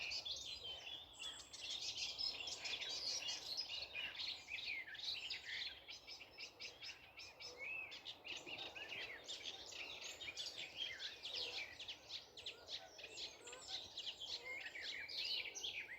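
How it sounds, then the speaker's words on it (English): A reed warbler sings a continuous, chattering stream of rapid notes, faint and a little distant, with no talking. "Occasionally get a burst of sedge, but reed warblers do sing very late"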